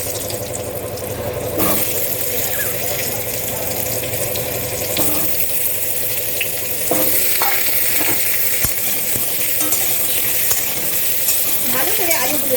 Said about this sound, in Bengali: ভালো করে আলুগুলোকে কড়াইয়ের মধ্যে নেড়ে চেড়ে নেব।